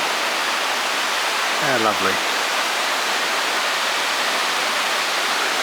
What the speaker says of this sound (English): And it's got a water mill.